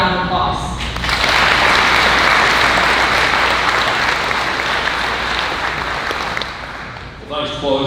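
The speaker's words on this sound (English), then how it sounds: "So please give the exhibitors another round of applause." Crowd at a state fair livestock sale of champions claps loudly for the exhibitors, a sustained burst of applause that swells and then fades.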